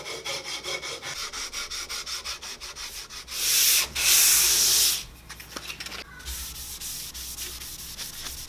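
Sandpaper works over the wooden body of a scratch-built Telecaster guitar in steady rhythmic back-and-forth strokes, close and loud, with a brief harsher, denser burst of rubbing midway.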